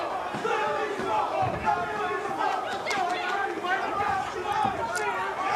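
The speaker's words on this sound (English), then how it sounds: "See how animated the Philly crowd now is with their team back in it." Animated Philly crowd at a team boxing match, cheering and chanting in a dense, continuous roar with shouted bursts, close and lively throughout.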